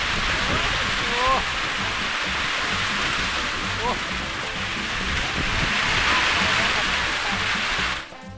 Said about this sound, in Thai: โอ้ตายแล้วพี่น้องฝนมาแรงนะครับ